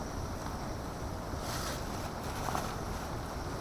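Steady wind rushes across a cold, rainy campsite without a windscreen around the stove, a constant broadband roar with gentle swells and no voices.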